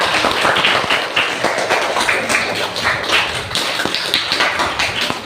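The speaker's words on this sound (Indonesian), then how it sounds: "Tepuk tangannya." Classroom applause from students during an Indonesian lesson, a dense burst of many hands clapping close by, loud and uneven, fading slightly toward the end.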